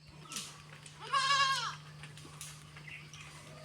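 A goat on a rural village homestead gives one clear, wavering bleat in the middle, close and fairly loud, with fainter bleat-like calls before and after it over a quiet background hum.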